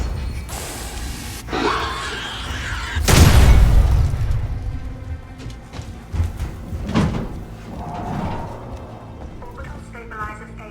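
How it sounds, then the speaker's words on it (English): Pipe bomb thrown at the alien in Alien: Isolation, a loud booming blast that rolls out for about a second, followed by scattered clanks and softer game noises. "and we chuck a pipe bomb at it"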